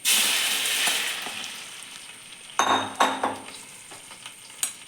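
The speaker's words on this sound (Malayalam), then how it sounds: "ഇനി നമുക്ക് എടുത്ത് വെച്ചിരിക്കുന്ന നമ്മൾ വേവിച്ച് വെച്ചിരിക്കുന്ന ഗ്രീൻ പീസ് ഇട്ട് കൊടുക്കാം." Cooked green peas tumble into a pan of frying shallots and curry leaves for a green pea curry. A steady hiss gives way to a few sharp sizzling bursts and stirring clatters as the peas land.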